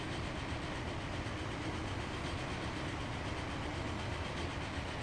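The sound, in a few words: Mallard steam locomotive train in video game Transport Fever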